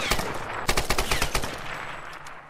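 Rapid bursts of gunfire from the Tomb Raider game on PS4, a dense cluster of sharp close shots through the middle of the clip with scattered single shots before and after, over a steady game background.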